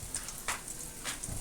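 Chopped garlic frying in hot, lightly smoking oil while cooking kangkong stems, giving a soft steady sizzle with a few brighter crackling bursts at a close distance.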